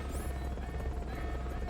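A helicopter crashes in Metal Gear Solid: Peace Walker, a dense low rumbling roar with a smashing crunch and steady engine hum, loud and continuous throughout.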